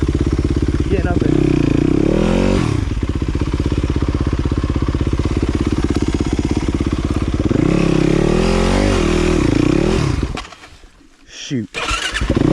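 A dirt bike engine revs and labors loudly up a hill on a trail, rising and falling as the rider works the throttle, then cuts out near the end.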